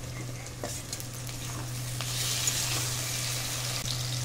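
Onions and chopped tomatoes frying in a pan, a soft continuous sizzle with light stirring scrapes, close but fairly quiet, over a steady low hum and no speech.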